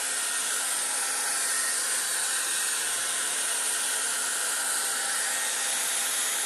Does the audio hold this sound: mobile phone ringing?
no